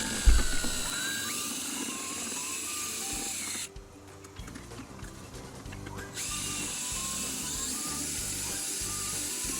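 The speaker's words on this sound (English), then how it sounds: "I have a little bit of fun with the paint mixer mixing this up" A paint mixer drill whirs steadily as it stirs a yucca and soap lawn solution, the motor tone shifting as it eases off briefly in the middle and then picks back up, continuous and fairly close.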